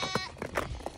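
Goat buck or kids bleating in a barn, a few short wavering calls close by over about one second.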